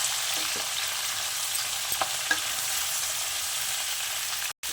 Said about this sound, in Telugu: ఇప్పుడు ఇది దూరగా వేయించుకుందాం